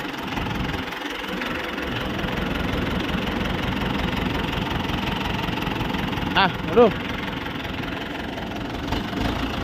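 A Ford 6600 tractor with a three-cylinder engine idles steadily with a low, even rumble, while someone talks over it.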